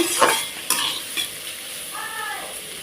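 Snake gourd being stirred and fried in a pan over low heat. Several brisk spatula scrapes ride over a continuous close sizzle, with a faint tonal squeal near the end.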